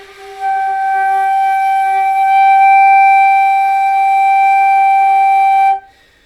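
A brass instrument note builds slowly from no embouchure into a steady, bright tone, then holds evenly at a strong level before cutting off cleanly.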